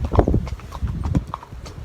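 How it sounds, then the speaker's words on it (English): A horse's shod hooves clip-clopping on a road during a horseback trek across Ireland, close and loud, with a loose, uneven walking rhythm of sharp knocks and no speech. "We totally recommend riding horses across Ireland."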